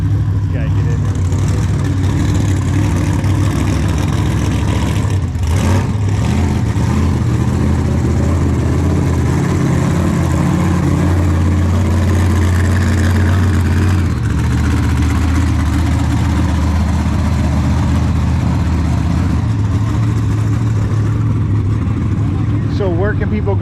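The engine of the Bigfoot Ranger truck runs loud and close throughout with a deep steady rumble and a brief rise in revs partway through, while people talk over it.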